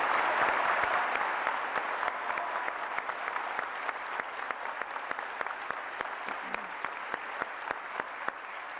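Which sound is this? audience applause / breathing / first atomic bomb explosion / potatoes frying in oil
audience applause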